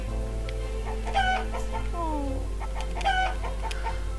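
Chickens on a farm in the Summer in Mara video game cluck in short bursts, with two brief crowing calls, over a steady low hum of background game music.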